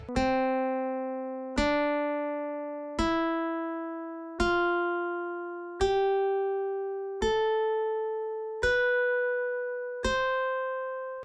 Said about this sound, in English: this is how the mixolydian scale sounds with that 7th note turning to a flat